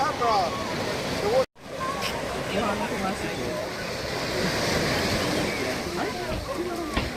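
Sea surf rolling in steadily on Whitby beach in North Yorkshire, England, a constant broadband wash of breaking waves with a brief dropout partway through and faint voices mixed into the beach ambience.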